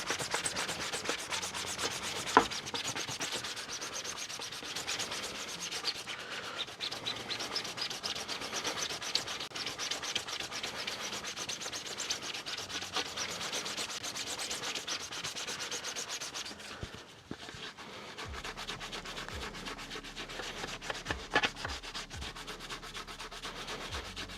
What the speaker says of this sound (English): go a little crazier with the sanding on this one